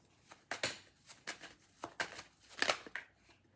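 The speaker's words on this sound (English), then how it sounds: "Let me just shuffle in these cards." Tarot cards are shuffled by hand in a series of soft, quick riffles and slides, a dozen or so brief bursts at irregular intervals, quiet and close with no talk.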